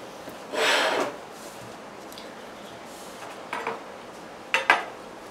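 A block of feta being tapped to drain brine gives a couple of brief clinks and knocks against a container, with a longer soft scraping rustle at first, close and fairly quiet.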